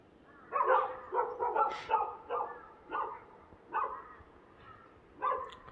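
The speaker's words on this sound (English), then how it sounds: "The dogs are barking. They have been barking since 5." Dogs barking at dawn in Namche, Nepal, in a rapid burst of overlapping yaps, then scattered single barks after short pauses, moderately near.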